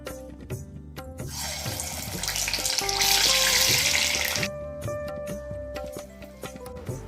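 Sweet banana vada (pazham vada) dough drops into hot frying oil, and a loud bubbling sizzle swells for a few seconds before settling to a quieter fry.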